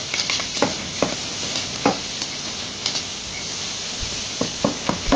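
Food fries in a pan with a steady hiss while a utensil stirs and taps against the metal in irregular clinks, and no one speaks.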